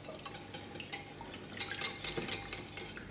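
Oat and date cupcake batter stirred in a bowl, a utensil scraping and clinking against the sides in quick uneven strokes, close and fairly quiet, with no voices.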